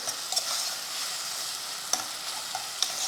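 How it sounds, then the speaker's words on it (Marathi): Ginger garlic paste sautéing with tomatoes and coriander in a pan gives a steady soft sizzle, with a few light clicks of a spoon stirring against the pan. No one speaks. "आता आपण यामध्ये आलं लसणाची पेस्ट घालूयात एक चमचा थोडी कोथिंबीर पण मी इथंच घालते आहे थोडं परतून घेऊ"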